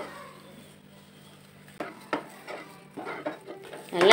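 Thick rava gulab jamun dough is stirred in a pan, starting quiet and then giving a run of close scraping and knocking strokes that grow louder toward the end.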